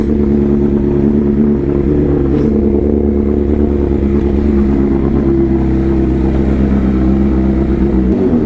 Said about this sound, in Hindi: पुल स्टार्ट में बहुत ही लाउड रहता है, तो डीबी किलर खोल दिए